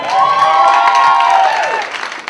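A comedy club audience applauds and cheers, a loud crowd roar with a sustained whoop rising over clapping that tapers off toward the end.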